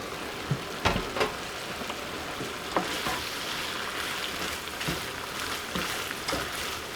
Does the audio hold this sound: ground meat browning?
yes